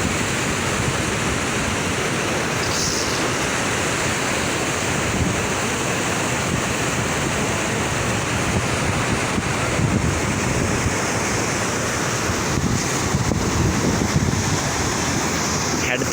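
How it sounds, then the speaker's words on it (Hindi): Indus river water rushing through Taunsa barrage, a steady, loud broadband roar like heavy surf that holds constant throughout with gusty wind buffeting the microphone. "ये दरिया सिंध है, तो इसकी ये सूरत हाल है पानी की।"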